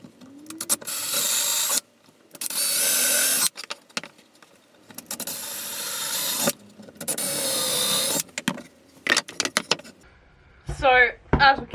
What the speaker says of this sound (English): I'm just going to start drilling holes in them